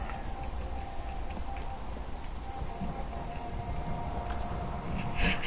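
Steady rain falls in Fallout 4, a dense, even hiss of drops on surfaces that holds at moderate loudness throughout with no voices.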